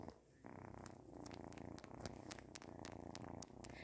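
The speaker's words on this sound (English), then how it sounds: "You can hear her purring." A cat purrs softly up close, a low rhythmic rumble with faint clicks and rustles, no talking.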